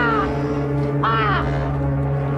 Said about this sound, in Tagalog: maog gihapon ang uwak nga imong makita ug mabatian.